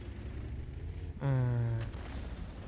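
Artillery fire in a World of Tanks battle on the Prokhorovka map: one heavy boom rings out partway through, with a deep low body and a short ringing tail over steady game background noise.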